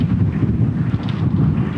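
Strong wind buffets the microphone on a golf course during the Oman Open, a loud, rumbling, gusty roar that pulses unevenly throughout with no voices.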